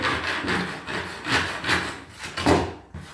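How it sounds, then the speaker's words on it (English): A handsaw cutting through a wooden floorboard, slow back-and-forth rasping strokes in a steady rhythm, close and clear, about seven strokes with no talking. "In this case, a handsaw. Slowly going all the way along, like so."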